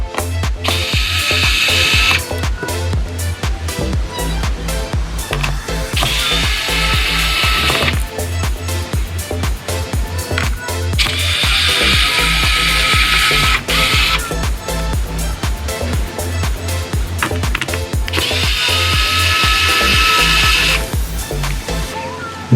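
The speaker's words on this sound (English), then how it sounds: "And we'll remove the screws." Screws being driven out of the SSD cage of an Asus laptop with a power screwdriver, in four loud whirring bursts of a few seconds each, separated by clicks and handling noise.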